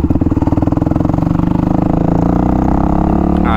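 A Suzuki DRZ 400SM supermoto's single-cylinder engine pulses loudly up close with a fast, throbbing beat that builds steadily as it revs, with no voices over it.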